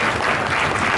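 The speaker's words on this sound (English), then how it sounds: "can we just give these guys a round of applause?" A conference audience applauds for a technical talk on data innovators at Google, a dense burst of steady clapping that is close and loud and fills the whole short moment with no pause.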